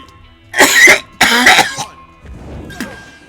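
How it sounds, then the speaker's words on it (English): Two harsh, loud coughs in quick succession, followed by a softer rasping breath and a faint clearing of the throat. "Coughing your lungs up does not sound advised"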